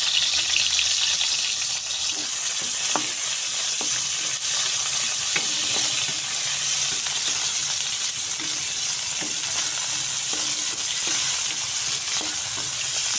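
Loud, steady sizzling of tomato dropped into a hot pan over red onion cooked until browned, for adobong takway, with scattered stirring clicks throughout and no voices.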